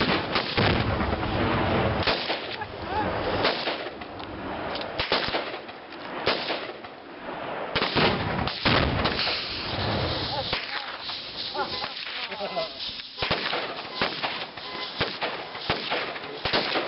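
Dense, continuous gunfire at an outdoor shooting event in the Indio Hills, loud overlapping cracks and booms from many guns firing at once, crowded and heavy for the full stretch with voices faintly mixed in.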